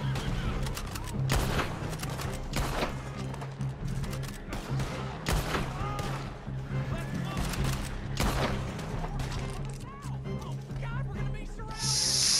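Dense, loud volleys of gunfire from a Red Dead Redemption 2 shootout, overlapping shots cracking almost without pause throughout.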